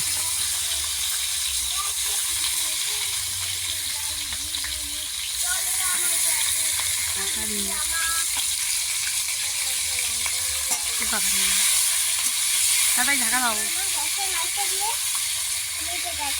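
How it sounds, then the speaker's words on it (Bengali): Magur catfish frying in oil in a wok give a steady, close sizzle throughout, with faint talk in the background. "এবারে কড়ার মধ্যে তেল দিয়ে মাগুর মাছগুলো আমি ভালো করে ভেজে নেব।"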